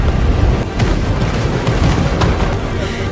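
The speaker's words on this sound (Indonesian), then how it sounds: "Ledakan menghantam bumi." A deep, rumbling explosion fills the clip with sustained low-end roar and scattered crackling bursts, loud and close, with no clear pauses.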